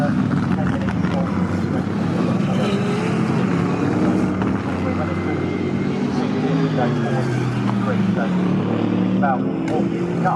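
GT race cars lapping Snetterton circuit in a British GT Championship race, including a Farwell Motorsport Lamborghini and racing Mercedes, with steady loud engine roar, shifting revs and passing cars under continuous commentary.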